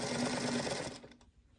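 A sewing machine runs in a short, close burst, stitching slowly over pinned seams of a scrappy quilt block before stopping abruptly.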